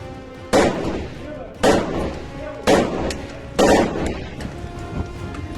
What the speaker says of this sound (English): They open fire.